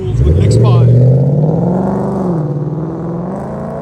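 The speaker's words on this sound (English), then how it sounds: "But here's a Mustang. We did MAGNAFLOW MAGNAPACKs." A Ford Mustang GT with Magnaflow Magnapack true dual exhaust and an X-pipe rumbles loudly and close, its deep engine note swelling early and then settling into a steady lower growl.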